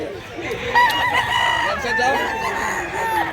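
A stag gamecock crows loudly and close, one long drawn-out call with a wavering harmonic tone, over background chatter and rustling outdoors.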